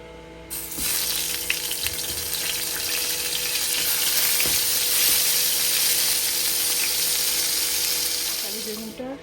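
Eggplant frying in mustard oil in a pan: a loud, continuous hiss and crackle of sizzling oil lasting several seconds, with occasional clinks from the pan.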